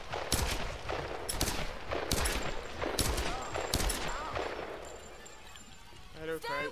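Rapid bursts of gunfire in the video game Tomb Raider (2013), loud and dense shots firing repeatedly across the whole stretch, with a person talking over the combat.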